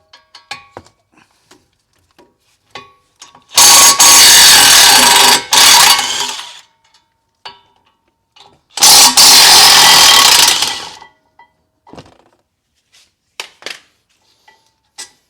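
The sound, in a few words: removing two 18mm caliper bracket bolts on Ford Escape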